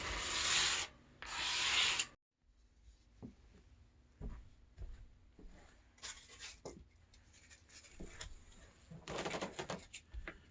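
Two loud bursts of hand sanding, scratchy and close, then a lull before quieter scraping strokes resume in bursts toward the end.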